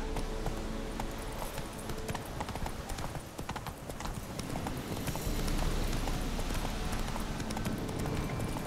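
Horse hooves clip-clop steadily in The Witcher 3: Wild Hunt, a continuous rhythmic trot on a road that stays prominent throughout, with game ambience beneath.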